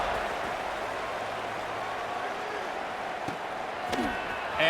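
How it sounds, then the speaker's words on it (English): Steady, diffuse crowd noise from a football stadium after a score, a broad murmuring wash that holds even throughout, with faint scattered shouts rising near the end. "this crowd is buzzing after that last score"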